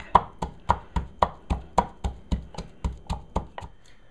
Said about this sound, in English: Now I keep on cutting the tomatoes.